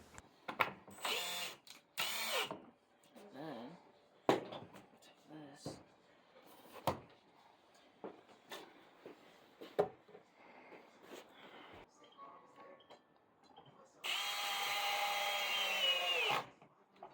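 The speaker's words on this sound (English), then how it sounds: "just screwing it into that little platform that I had built" A power drill drives screws into a wooden platform while building a shave horse, giving a sustained loud whir near the end after scattered knocks and handling clatter, with a person talking over parts.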